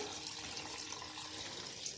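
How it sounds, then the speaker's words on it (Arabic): Tap water runs steadily from a kitchen faucet into a cooking pot of fava beans, a continuous close splashing hiss that fills the whole moment without any talking. "هحط بقى كميه ميه، بصي ميه من الحنفيه"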